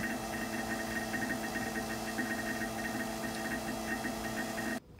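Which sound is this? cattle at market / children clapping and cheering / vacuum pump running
vacuum pump running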